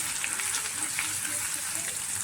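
Garlic, ginger, curry leaves and turmeric fry and get stirred in a pan for a Marathi guar bean stir-fry, giving a steady close sizzle with small scraping stir sounds and no talk.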